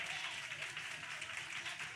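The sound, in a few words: audience clapping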